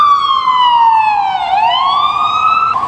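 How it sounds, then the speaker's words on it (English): An emergency vehicle siren wails loud and close on a New York City street, its pitch sliding down and back up in one long sweep with rich harmonics, with no talking. "You gotta love New York City sirens."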